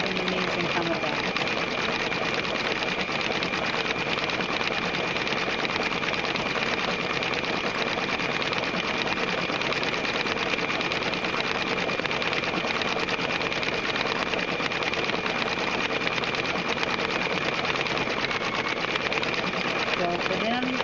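A Brother Quattro II embroidery machine stitches a running stitch, giving a steady, fast, loud mechanical chatter that runs unbroken throughout, with a person talking over it.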